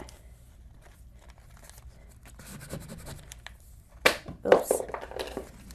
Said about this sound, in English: So I'm going to take this tape up.